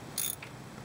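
A ratchet with extensions breaks loose bolts on a Jeep during a water pump change: one short, sharp burst of fast metallic clicking, close and fairly loud, then quiet.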